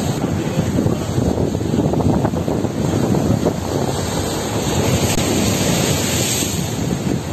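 Sea waves roll in at the Jeddah corniche around sunset, a steady, loud wash of surf mixed with gusting wind buffeting the microphone, continuous and without speech throughout.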